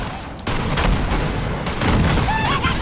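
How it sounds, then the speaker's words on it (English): Explosions and gunfire from an enemy rocket launcher in the Borderlands 3 video game, set in a swamp, crack out in a dense, loud volley of booms and shots, with brief tonal game effects near the end. "Jeez, he has a rocket launcher."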